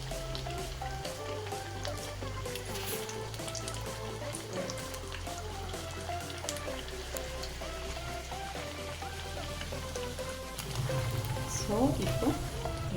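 Vegetable cutlets frying in oil on a pan over low flame after being flipped, a soft continuous sizzle and crackle, a little louder toward the end, with background music underneath.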